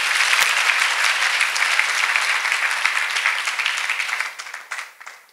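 Sustained applause from a church congregation gathered for a prophet's service, a dense wash of many hands clapping that holds steady before thinning and fading out near the end.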